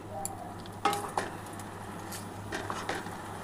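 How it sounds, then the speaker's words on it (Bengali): Kalmi greens (water spinach) are stirred in a pan with a utensil, giving a few soft scrapes and knocks over a faint, quiet sizzle, sparse and close. "এবার ভালো করে একটুখানি নাড়াচাড়া করে নিচ্ছি।"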